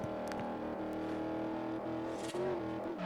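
Revving V8 engine in the racing game Forza Horizon, a tonal droning roar that rises briefly near the end.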